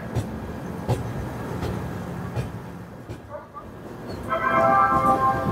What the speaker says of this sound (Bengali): আমাদের ট্রেনটা এখন সবে ঢুকছে হচ্ছে হরিদ্বার স্টেশনে